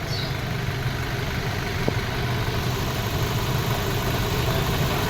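The engine of a Toyota Innova with an abnormal engine noise idles in a steady, close, low mechanical drone that holds an even level for several seconds, with no talking.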